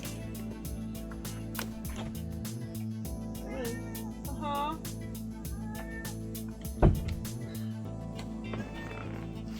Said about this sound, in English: Millie is meowing.